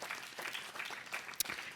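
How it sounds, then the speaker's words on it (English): An audience at a student lightning-talk session gives a brief, faint round of applause, with scattered clapping heard from some distance. "So round of applause for Erbuang and Jeff and Alaline and Matt."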